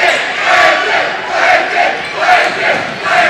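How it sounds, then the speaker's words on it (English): A high school basketball student section chants and cheers together at a game between Chanute and Pittsburg, a loud crowd roar swelling in a steady rhythmic pulse. "the student section cheering out names"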